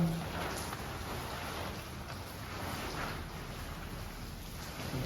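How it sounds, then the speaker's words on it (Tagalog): Steady heavy rain pours down in a dense, continuous hiss, with no voices. "Biglang bagsak na naman ang ulan."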